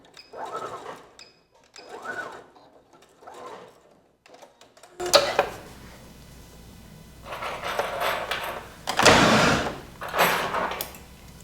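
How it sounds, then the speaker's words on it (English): A sewing machine stitching elastic onto homemade panties with front and back stitching, heard as bursts of mechanical whirring in the second half, preceded by several short, softer bursts of noise with pauses between them. "Now I do front and back stitching again."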